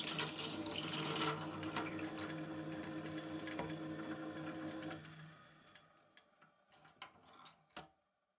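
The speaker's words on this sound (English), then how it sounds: "my drill press already has a few operating hours on the drive belt, but why should I replace a good thing as long as the chuck is rotating?" A drill press with a well-worn drive belt runs quietly with a whirring, slightly rattling mechanical hum, then winds down and stops about halfway through, leaving a few sharp clicks and knocks.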